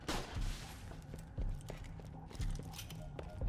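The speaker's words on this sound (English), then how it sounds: "go way back as far as we can, shoot at that floor" Dahl pistol in Borderlands: The Pre-Sequel fired at the floor: sharp single shots at roughly one-second intervals, each with a short low thump, over a steady game background.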